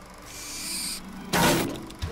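An owl in a Harry Potter film delivers mail to the Weasley house and hits a window, with a soft swish, a sudden loud thump, and a smaller knock as it falls, and no talking.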